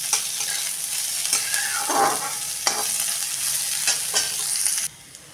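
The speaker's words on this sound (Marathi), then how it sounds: "कांदा हा फक्त मऊ पडेपर्यंत परतून घेऊया।" Onions sizzle and crackle steadily in a hot pan while being stirred until soft for a Kolhapuri white curry, with a few scraping clinks from the spoon; the frying stays continuous and close, then drops off near the end.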